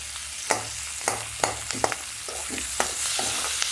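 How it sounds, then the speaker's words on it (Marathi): Paneer do pyaza being sautéed and stirred in a pan, with a steady low sizzle broken by sharp spatula scrapes and knocks roughly every half second, close and clear, with no talking. "त्याला चांगला लाल होईपर्यंत परतायचं."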